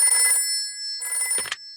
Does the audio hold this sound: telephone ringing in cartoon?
yes